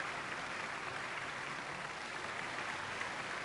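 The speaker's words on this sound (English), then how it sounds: "I really like how they added this kind of sound effects into this. Like clapping and cheering." Clapping and cheering from an in-game audience at a magician's stage show in Genshin Impact, a steady, dense wash of applause filling the whole stretch with no talk over it.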